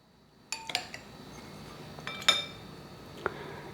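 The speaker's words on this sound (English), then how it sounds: "Let me first put the tapioca pearl first." Tapioca pearls placed into a serving bowl for a tapioca dessert, heard as a few sharp clinks and taps of utensil against bowl, spaced out over a quiet background with no talking.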